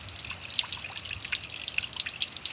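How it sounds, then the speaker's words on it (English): Water draining from a boat's drain holes, a continuous trickling and dripping splash, close and steady without voices. "You see how the water drains out? It comes out through the front."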